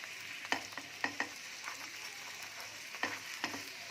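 A mint paratha fries in a non-stick pan with a soft continuous sizzle, broken by a few sharp scraping taps of a spatula moving the flatbread, close and quiet.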